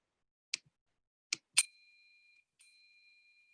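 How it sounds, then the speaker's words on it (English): An electronic timer bell sounds for a timed online parliamentary debate speech: three sharp dings in quick succession, then a fourth after a short pause, the last two leaving clear ringing tones that fade out in an otherwise quiet room. "this bell sound will be heard for the 1 minute mark and the 3 minute mark."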